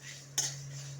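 Dry red chillies, fenugreek and mustard seeds dry roasting in a pan, with a single quick metallic scrape of a utensil against the pan over a faint steady hum.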